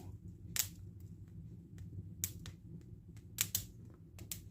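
Flax seeds pop in a hot pan: sharp little pops and crackles burst irregularly over a low sizzling hum, some close and bright.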